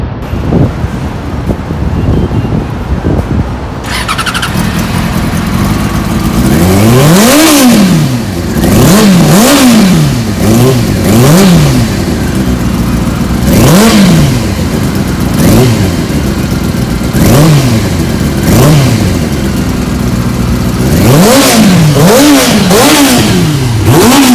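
A Yamaha R6 sport motorcycle fires up and is revved hard, a very loud close exhaust climbing to sharp screaming peaks and dropping back again and again, with a short blip at startup and a burst of quick revs at the end.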